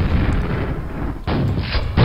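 Loud, booming grenade explosions from the video game Quake, two heavy blasts in quick succession with a deep rumbling tail and a further burst starting at the end.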